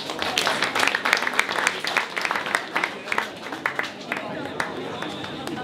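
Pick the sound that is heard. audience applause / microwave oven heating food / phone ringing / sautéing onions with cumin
audience applause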